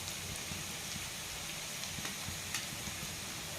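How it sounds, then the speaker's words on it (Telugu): Stuffed bitter gourds (kakarakaya) fry in oil in a pan with spice powder, giving a steady, even sizzle and crackle throughout, close up with no voices. "కాయ చెదరకుండా వేయించుకుందాం"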